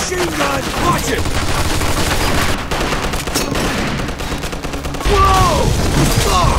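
Rapid bursts of machine gun fire in the video game Mafia 2, dense and close, rattling in long continuous volleys with a louder burst near the end, with shouted voices in the mix.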